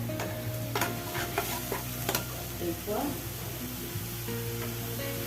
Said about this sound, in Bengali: নুন দিয়ে এবার মশলাটাকে একটু কষাবো।